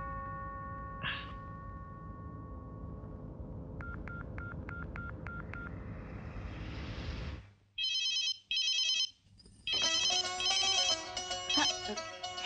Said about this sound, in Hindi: मेरे लड्डू का फोन है